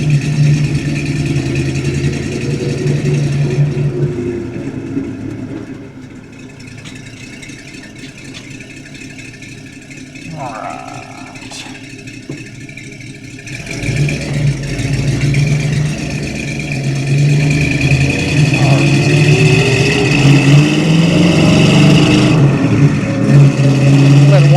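A 1970 Ford Mustang Fastback with its original numbers-matching 351 Cleveland V8 and 3-speed manual idles as it warms up, a steady low rumble that dips and then swells louder near the end, with a voice talking over it.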